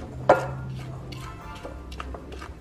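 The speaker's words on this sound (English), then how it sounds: "I used my spoon, so I'm going to just mix this together here." A spoon mixes flour and sugar in a bowl for a pineapple casserole: one sharp clink at the start, then soft, scattered scrapes and light taps, quiet and close.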